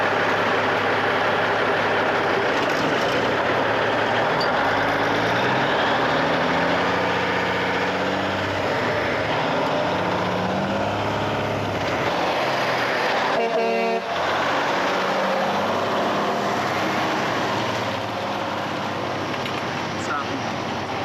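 A 1994 big rig truck idles and then pulls away, with a loud continuous diesel rumble that shifts pitch as it moves. A brief horn or air toot sounds midway, and voices talk at times over the engine.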